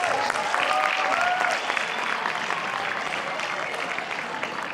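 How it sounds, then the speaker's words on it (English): An audience at a school workshop event at GEMS Founders School in Al Barsha gives sustained applause, a fairly even wash of many hands clapping, with some brief tonal cheers near the start. "please have a round of applause for them for coming today."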